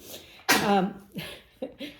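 A single sharp sneeze bursts out, close and loud, followed by a couple of softer breathy sounds and short vocal noises.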